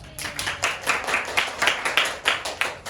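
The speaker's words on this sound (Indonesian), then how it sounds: "Boleh beri tepuk tangan dulu" Classroom students clapping together in a brief burst of rhythmic, fairly close handclaps, roughly steady beats for a few seconds with no talking.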